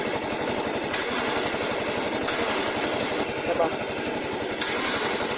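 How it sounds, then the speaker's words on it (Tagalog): A scooter's electric starter motor whirs and chatters in a fast, steady mechanical pulse close to the microphone, with a brief spoken word over it. "Maririnig nyo para may mag-whirl na tunog. Ibig sabihin nun, gumagana yung starter nyo."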